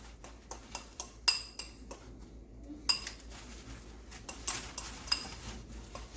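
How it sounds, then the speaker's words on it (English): A fork clinks and taps against a dish while mixing melted butter into dried beef for keto pemmican, a quiet, rhythmic series of sharp metallic strikes with brief pauses between strokes. "You take a fork or a spoon and you mix it in well."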